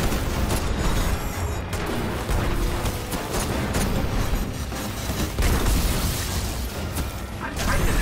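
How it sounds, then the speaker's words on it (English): Explosions and gunfire in the video game Destiny: Rise of Iron, a dense barrage of booms, bursts and pops with a voice talking over the game audio. "but the explosions are not pumping"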